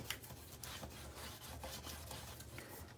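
A bone folder rubs paper down onto a small drawer, making faint, soft, close scraping strokes in a loose rhythm.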